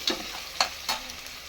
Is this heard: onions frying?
yes